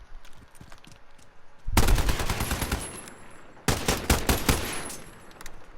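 AN-94 rifle in Call of Duty Modern Warfare firing two-round bursts, heard as two loud stretches of rapid, closely spaced shots with a short pause between them, close and punchy over faint background.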